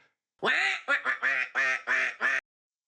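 Ducks quacking loudly and close by, a run of about six sharp, evenly spaced quacks over a couple of seconds against otherwise silent surroundings.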